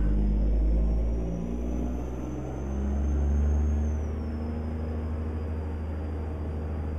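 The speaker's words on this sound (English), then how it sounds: "I love the way this truck sounds." An Autocar truck hauling cars in American Truck Simulator, its engine giving a steady deep diesel drone with slight rises and falls in revs, loud and close throughout.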